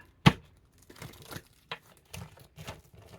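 A sharp paper tear followed by several soft crinkling and rustling bursts, close by with short pauses between.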